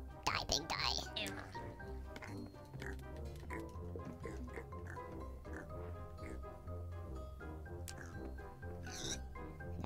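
Pig oinking in Minecraft, with several grunts over continuous game music while voices talk throughout.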